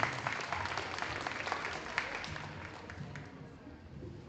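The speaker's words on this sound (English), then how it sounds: "Let's go ahead and give these young exhibitors a nice round of applause." Steady applause from an audience at a livestock show, honoring young exhibitors after a class of heavyweight steers; continuous clapping that stays fairly even and fades slightly toward the end.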